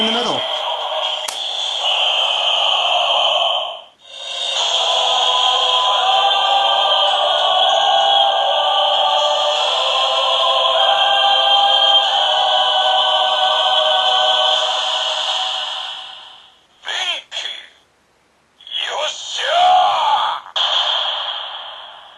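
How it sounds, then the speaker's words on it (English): The DX Yokai Watch Ogre toy playing its Benkei transformation sound, a loud electronic effect with sustained tones, vocal-like chanting and echoing bursts for about twenty seconds, with short gaps and a final flourish. "that's the sound of Toma transforming into Benkei"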